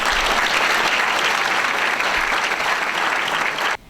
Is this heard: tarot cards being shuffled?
no